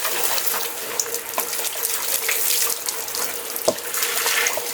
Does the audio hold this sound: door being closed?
no